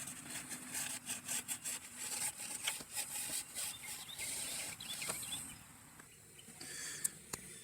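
A Scotch-Brite pad scrubs a metal gasket surface on a 2010 Toyota Prius water pump housing, making rhythmic rasping back-and-forth strokes up close that slow and fade toward the end.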